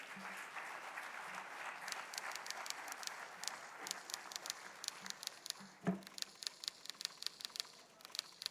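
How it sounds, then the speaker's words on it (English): An audience claps for Paralympic medallist Deepa Malik as she is welcomed on stage at a speaking event, with steady mid-volume applause that thins into scattered individual claps toward the end. "A big round of applause."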